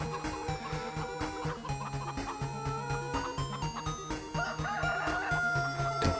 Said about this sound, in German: Der Hahn, ey.